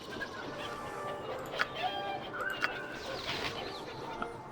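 A chicken clucks in Baldur's Gate: Enhanced Edition, with several short, scattered clucks and squawks over a steady background ambience.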